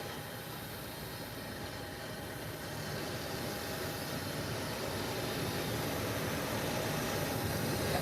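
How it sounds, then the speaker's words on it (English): A United airliner being pushed back for departure at an airport, heard as a steady, loud broadband jet engine roar with a faint whine, building slightly over time with no talking. "here is the United being pushed back in preparation for departure"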